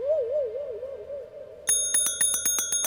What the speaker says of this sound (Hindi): इनको घंटी बजाने से फुर्सत नहीं है